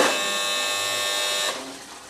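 A single-phase water pump motor on a dry-run protection panel hums with a steady, buzzing whine. The sound holds for about a second and a half, then drops away sharply to a faint residual noise.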